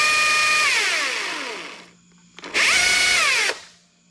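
A Husqvarna chainsaw fitted with a 12-inch bar revs loudly up close in two bursts, its whine falling as it winds down, with a brief lull and low idle between the runs.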